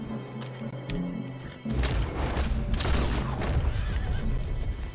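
A horse whinnies in Red Dead Redemption 2, clear and fairly close, with a loud burst of game action, mechanical clatter and crashing noise beginning partway through.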